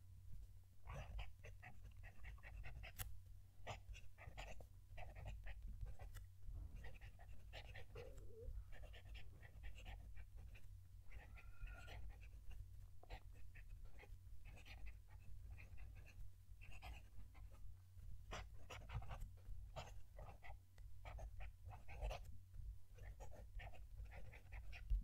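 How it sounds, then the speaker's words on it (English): A steel-nib Asvine V169 fountain pen scratches across paper close to the microphone, a faint, intermittent series of soft scratches and ticks over a low steady background hum. "Let's move the mic down to the page so you can hear the pen writing."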